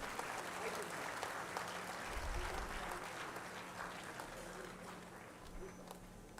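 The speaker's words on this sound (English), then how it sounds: "let's give them a big round of applause" An audience at an AI event in Kakinada claps in sustained, moderately distant applause with a low rumble underneath. The sound tapers off gradually over about six seconds.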